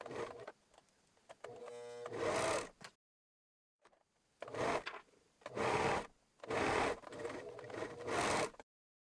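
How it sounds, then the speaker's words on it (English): A sewing machine stitches the pocket bag and side seam of homemade sweatpants, running in several short, close bursts separated by brief pauses, with no talking. "Then sew up the pocket bag and then the side seam."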